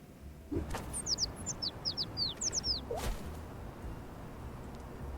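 A bird in the video game Little Kitty, Big City gives a quick run of high, sharp, descending chirps lasting about two seconds, with a couple of soft whooshes before and after over a quiet ambient bed.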